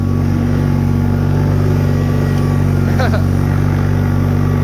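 A small tractor, fitted with a snow blower, driving through about eight inches of deep snow, its engine droning loud and steady close by, while someone talks over it.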